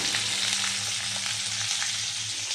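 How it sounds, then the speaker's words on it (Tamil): Vegetables sauté in a hot pan with a dense, steady sizzle and crackle that stays loud and close, with no speech, for the whole stretch. "நல்லா வதங்கி வரட்டும்."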